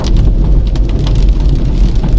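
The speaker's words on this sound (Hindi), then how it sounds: "ओले पड़ने शुरू हो गए हैं भाई साहब" Hail begins falling on a car driving through Indian countryside, a dense rapid patter of small impacts over loud road and engine rumble.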